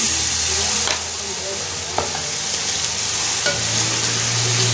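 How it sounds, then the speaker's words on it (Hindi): Yogurt hits a hot pan of beef kadhai and is stirred in, giving a loud, steady sizzle and hiss with occasional soft scrapes of the spoon, close up and with no talk. "अब हमने इसमें दही जो लिया है वो डाल देते हैं"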